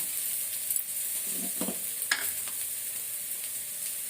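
Puffed rice stirred in a hot pan for a savory uppuma, a steady faint sizzle with soft scraping strokes and a brief clink midway, close and without talk.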